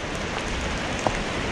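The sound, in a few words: rain falling on a trek in Parvati valley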